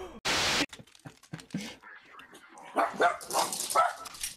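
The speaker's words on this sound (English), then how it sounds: "That dog was the loudest thing ever." A dog barks once, very loudly and close, then quieter yips and whimpers follow among a few sharp sounds before a person talks over the end.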